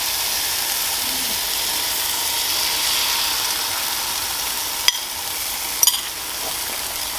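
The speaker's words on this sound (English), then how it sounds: "It is time for the egg dunk." Eggs sizzle and fry steadily in a non-stick skillet, a constant close hiss of frying with a couple of sharp clicks near the end and no talking.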